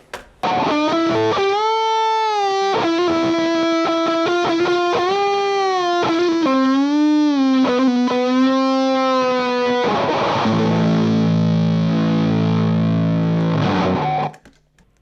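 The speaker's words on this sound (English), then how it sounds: "if I kick in the DS2, it would sound something like this" A heavily distorted electric guitar through a Boss DS-2 distortion pedal plays a bending lead melody, then shifts into thick sustained power chords, loud and continuous before cutting off.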